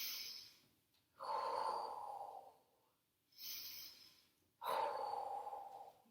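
Slow, soft breathing held in a yoga plank pose during a gentle flow session, two long airy inhale and exhale cycles close to the microphone, quiet and unhurried with no talking.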